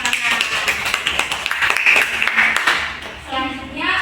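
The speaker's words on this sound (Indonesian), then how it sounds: "Tepuk tangan dong buat Mbak Sivana" A small class claps for a student during a teaching-practice lesson, the sharp, uneven hand claps close and lively before thinning out, with talking mixed in near the end.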